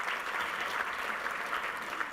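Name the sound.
audience applause at tourism event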